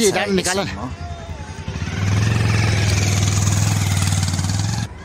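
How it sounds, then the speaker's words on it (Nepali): Motorcycles labor up a mountain route on the Thewa trail to the Char Rate Chauri festival after hail. A voice speaks briefly at the start, then a steady, fairly loud engine drone holds for about three seconds before cutting off. "माथि बाइकहरू लाने क्रम, अरूले ल्याउने क्रम भइरहेछ।"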